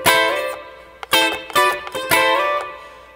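Two jazzy guitar chords, one of them a C6, strummed as a short funky break: several bright strummed attacks with ringing harmonics and short muted gaps between them, close and clear with no talking.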